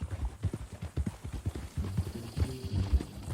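Horse hooves clip-clop at a steady walking pace in Red Dead Redemption 2, close and distinct, each footfall a hollow knock, with low game ambience and faint murmuring underneath toward the end.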